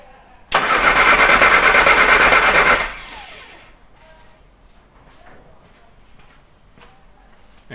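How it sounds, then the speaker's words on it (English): A Morris Mini Cooper engine cranks over on the starter during a cylinder compression test, a loud steady churning burst lasting about two seconds, then stopping abruptly, followed by quieter handling noises. "let's try cylinder number 3 and see what that gets up to"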